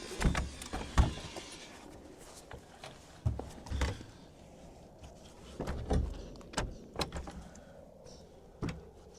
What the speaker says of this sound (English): pop this door slab out